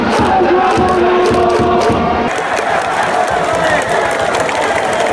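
Baseball crowd inside the Tokyo Dome at a Giants versus Yakult Swallows game: a loud, dense roar of cheering and chanting, with rhythmic organized chants early that settle into a broad steady din.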